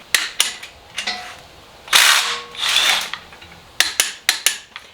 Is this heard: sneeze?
no